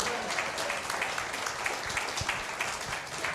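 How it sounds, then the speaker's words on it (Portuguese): Congregation applauding during a Sunday church service, a steady wash of claps spread evenly through the room at moderate level with no break. "Aplauda o Senhor,"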